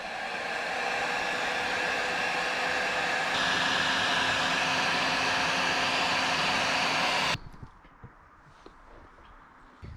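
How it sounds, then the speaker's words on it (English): A loud, steady blowing roar from a heat gun shrinking heat shrink tubing on 12V wiring runs continuously, then cuts off abruptly, leaving quiet room noise with a few small clicks. "I'm going to heat shrink them on now so it makes a watertight seal."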